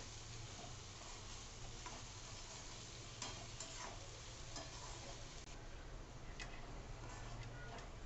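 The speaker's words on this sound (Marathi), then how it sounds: "आता आपण छान कांदा परतवून घेऊ" Medium-chopped onions sauté in a pan, a quiet, steady sizzle with occasional faint stirring clicks, low in level and close by.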